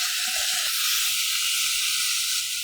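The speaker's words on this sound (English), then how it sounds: "And then stir fry." Kimchi and pork stir-frying with chili powder in a pan, a steady close hiss of sizzling oil running throughout with faint stirring scrapes.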